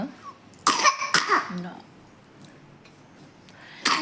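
A child gives a few sharp coughs close by, one short burst then another, with a brief voiced sound between and quiet room noise after.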